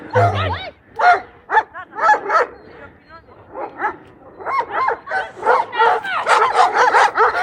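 Five or six dogs gather and bark near the wolf area, a run of yips, bow-wows and whimpers at close range, overlapping in bursts and growing denser toward the end.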